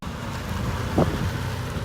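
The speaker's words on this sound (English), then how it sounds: "Teaching her how to drift. It's icy." A car with a welded differential drifts on icy, snowy ground, heard as a constant broad rumble of engine and tyre noise mixed with wind buffeting the microphone, with a short louder swell midway.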